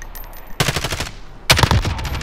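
Automatic gunfire in Call of Duty Warzone, fought at night: two loud bursts of rapid shots, the second following a brief pause, standing out above a low game background.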